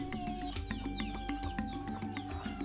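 Traditional free-range village chickens clucking in a rural farmyard, soft repeated clucks and calls against a low background hum, fairly faint and without voices.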